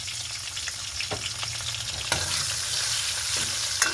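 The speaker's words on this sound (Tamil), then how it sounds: "முதல் உள்ளியை போட்டு வதக்க போகிறோம் அதோட இந்த வெட்டி வச்சிருக்கிற பெரிய வெங்காயத்தையும் சேர்த்து கொஞ்சம் பழங்க விடுவோம்" Garlic and onion sautéing in a pan give a steady, close sizzle with occasional stirring scrapes, and no voices are heard.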